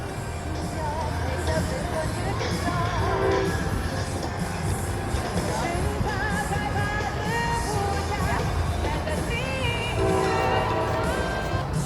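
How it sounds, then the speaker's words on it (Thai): A train rolls past with a steady rumble and rattle, punctuated by tonal horn or whistle blasts, while people talk over it. "มันเสียงรถไฟ"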